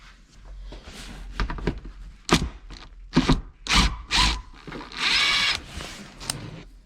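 Power drill backing out the bolts on the air box bracket of a Can-Am Defender, several short whirring bursts, close and loud, with pauses and clicking handling noises between them.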